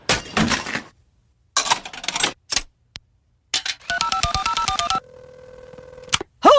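A phone booth telephone in use: clicks and handling noises, then a quick run of dialing tone beeps and a steady held tone, ending in a sharp burst.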